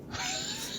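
A house cat lets out a single drawn-out meow, short and fairly faint, with no talking over it.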